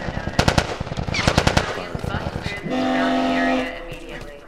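Gunfire in The Last of Us Remastered Survivor Mode: rapid, loud bursts of automatic shots crack through the first half, then give way to a steady droning tone.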